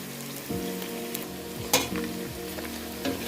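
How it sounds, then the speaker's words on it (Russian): Steady sizzling of finely chopped beef and onions frying in a pan, with occasional scrapes and stirring clinks over the constant crackle. "Сейчас пожарила мелко нарезанную говядину, добавила лук."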